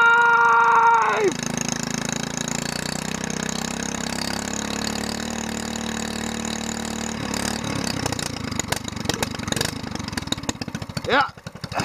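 An SPS longtail boat engine, just out of long storage, catches and settles into a steady low idle that runs on close and loud, with rougher sputtering near the end; voices are heard over it.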